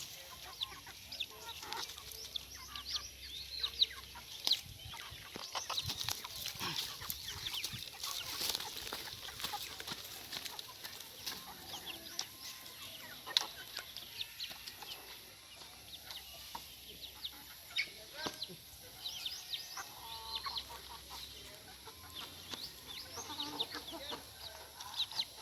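Chickens clucking and fussing around a farm house yard, a soft continuous chatter of hens with scattered sharper calls, fairly distant and quiet, with no voices.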